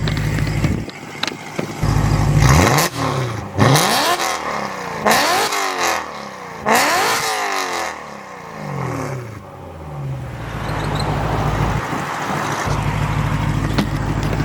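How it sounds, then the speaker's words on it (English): A straight-piped BMW E92 M3 engine revs hard outdoors in the woods: several loud, sweeping blips rise and fall in quick succession, then settle into a rough, raspy idle. "I figured I'll give y'all a quick rev test because I know y'all want to hear that"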